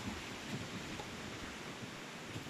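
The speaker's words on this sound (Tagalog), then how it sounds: "Malakas po yung hangin, sobra." Strong typhoon wind and rain during a Signal No. 3 storm in Pangasinan, heard as a dense, steady rushing hiss with faint low rumbles. It is quiet and brief, and no one speaks.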